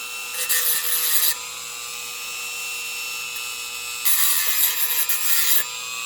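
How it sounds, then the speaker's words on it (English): A fiber cutoff wheel on a steadily whining rotary tool grinds the ends of model railroad track in two bursts of harsh, close abrasion, separated by a stretch of the motor running freely, with no talk. "Take the fiber cutoff wheel. And let's just clean up the ends here."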